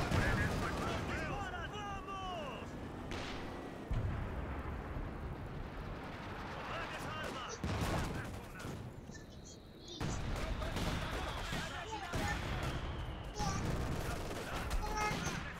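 Bursts of gunfire and explosions fill a 2v2 match of the World War II strategy video game Company of Heroes 2, with repeated sharp shots and booms throughout while players talk over the battle.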